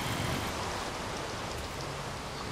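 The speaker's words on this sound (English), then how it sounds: "I hate rain." Steady rain falling in the video game Minecraft, a soft, even hiss of droplets that stays constant throughout with no voices.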